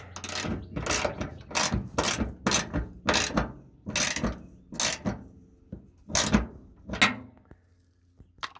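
A ratchet wrench tightening a nut on the throttle cable of a 1973 Dodge D100 pickup, with about ten crisp clicking bursts at an uneven pace, close and loud, with short pauses between them and no talking.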